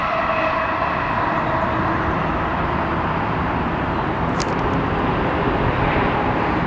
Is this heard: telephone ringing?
no